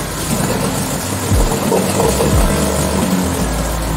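Outboard boat motor idling steadily in neutral while leftover fuel burns off in the carburetor, a continuous close, moderately loud low rumble with slight wavering throughout.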